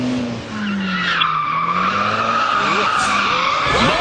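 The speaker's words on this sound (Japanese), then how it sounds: "今田辺の車が発進" A car launches hard with loud, sustained tyre squeal and skidding that wavers in pitch across the whole stretch, the engine revving underneath, close and dominant.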